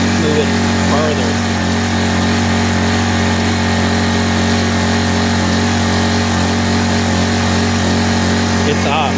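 A Honda EU1000i inverter generator with its choke three-quarters off runs roughly and surges, a loud steady engine drone with strong low harmonics, close by, with a voice speaking over it.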